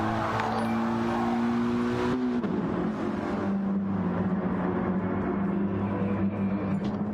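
Racing car engines in a video game race at Dragon Trail Gardens, including a Mitsubishi Evo, drone loudly and steadily, with a sharp pitch drop near two seconds and then a sustained, shifting engine whine.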